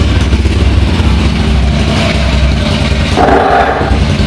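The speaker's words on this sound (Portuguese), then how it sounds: "Vamos tentar ligar a moto." A Dafra Zig 50 motorcycle fitted with a Honda Biz engine starts and runs steadily and loudly up close, a rough continuous chugging with a slight rise in pitch near the end.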